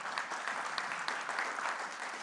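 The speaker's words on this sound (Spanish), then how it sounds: "Ahora quiero darle la bienvenida a don Gustavo Mata para que me pida un aplauso." Conference audience at a national private-enterprise congress clapping, a steady, fairly quiet wash of applause heard from a distance with scattered sharper claps.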